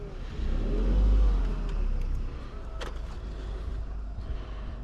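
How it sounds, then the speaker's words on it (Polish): A car drives past nearby on a building plot, its engine rising and swelling to a peak before fading into steady outdoor background noise. "Antoś, uważaj, bo auto jedzie"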